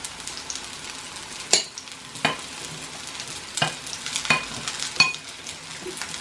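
Sour cream sauce with salt being stirred in a bowl, a spoon scraping in irregular swishes with several sharper clacks against the side, close and fairly loud with no talking.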